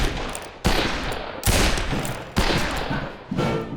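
Gunfire from a 2014 cowboy first-person shooter game, originally a Source engine mod. Four loud, sharp shots come at roughly even intervals, each with a booming decaying tail.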